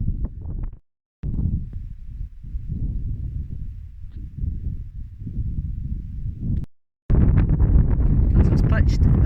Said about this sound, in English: As it's pitched, the wind has picked up a little bit.